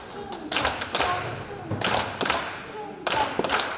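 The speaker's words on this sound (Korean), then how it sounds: "쿵짝짝 쿵짝짝 3박자 박수로 해주시는 거예요" An audience at a library's 20th-anniversary ceremony claps together in a three-beat pattern, with bursts of hand claps grouped in repeating clusters that rise and fall, fairly close and lively.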